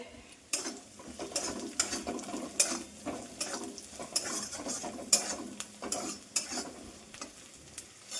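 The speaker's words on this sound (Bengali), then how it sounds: "পেঁয়াজ ভাজা কমপ্লিট" Onions frying in a pan, a steady sizzle broken by repeated clattering scrapes of stirring at an uneven rhythm, close and fairly loud with no voices.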